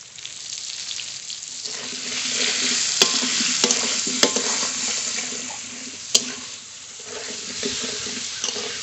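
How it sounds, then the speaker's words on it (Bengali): Potatoes with salt and turmeric frying for khichuri, a steady close sizzle running throughout with occasional sharp spoon taps on the pan and no talk. "আলু একটু ভালো করে ভেজে নিয়েছি, এর ভিতরেই কুমড়ো ভেজে নেব।"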